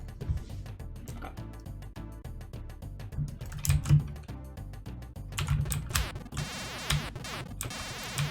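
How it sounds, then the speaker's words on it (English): A loud mechanical computer keyboard clatters with quick, irregular keystrokes in bursts, close and dry, with no talking. "I hate how loud the mechanical keyboard is"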